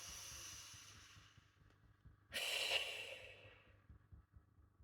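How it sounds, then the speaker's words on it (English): A slow, deep breath is audible up close: a soft airy inhale fades out, then a louder, sharper exhale rushes in and tapers off over a quiet background hum. "Taking a deep breath in and out."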